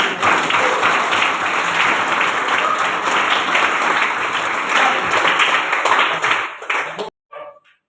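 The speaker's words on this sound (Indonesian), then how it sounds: "Tepuk tangan." An audience at a gathering for seminarians of a philosophy faculty claps together in steady, sustained applause with voices mixed in, carrying on for about seven seconds before cutting off abruptly, leaving a brief faint trailing sound.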